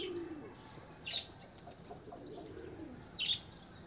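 Pigeons kept in an outdoor netted enclosure give soft coos under steady background chatter of other birds, with two brief louder bursts that may be wing flaps.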